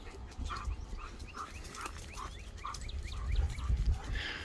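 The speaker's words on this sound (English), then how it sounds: "figure out what the barking is all about" A dog barks repeatedly at a distance on a farm with goats, short yelps spaced through the clip over a low rumbling background.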